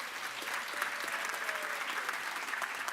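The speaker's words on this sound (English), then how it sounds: "Could you give them a big round of applause?" A university graduation audience claps in a dense, sustained round of applause that fills the hall evenly, with a faint voice briefly audible beneath.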